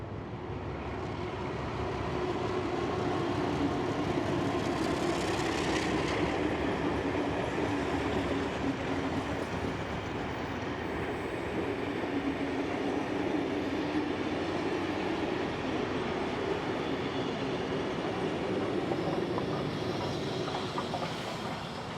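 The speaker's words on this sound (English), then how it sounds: "we see 4490 leading the train back to Sydney" A train led by locomotive 4490 rumbles past on the tracks in New South Wales in a continuous steady roar with faint rhythmic rattling, lasting throughout at moderate distance.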